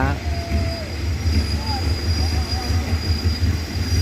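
A Hitachi locomotive hauling a passenger train passes through Lopburi station in Thailand, a steady, loud rumble of engine and rolling wagons with faint wheel squeals, while someone talks over it.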